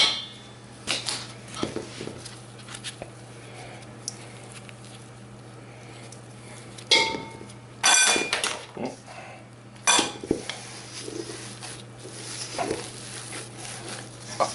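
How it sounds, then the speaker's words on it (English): Gloved hands mix cherry oatmeal cookie dough in a bowl, giving soft squishes and scattered clinks and knocks against the dish. A few sharper clatters stand out, with no talking. "I just prefer to put gloves on to mix it up and also form the cookies"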